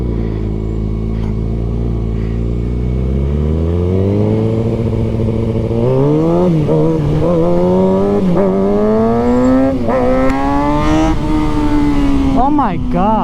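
Stunt bike engine idling low, then revving up in rising and falling bursts as the rider gets going, loud and close, the pitch climbing with each throttle blip.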